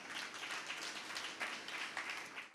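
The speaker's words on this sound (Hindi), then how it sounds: "आपके गांव में तालियां भी ऐसी बजाते हो तुम" Audience applause at a Jain religious discourse in Moradabad, a dense, steady wash of many hands clapping for a few seconds with small swells, no voices on top.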